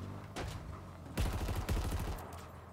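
Halo Infinite gunfire crackles in two dense bursts of rapid shots, preceded by a softer single report, with game ambience continuing underneath and no talking.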